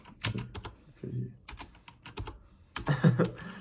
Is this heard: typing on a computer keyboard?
yes